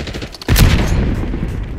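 In the Black Ops 6 video game, a sudden loud explosion from a grenade bursts after a brief quiet moment, then rumbles on with dense gunfire and battle noise.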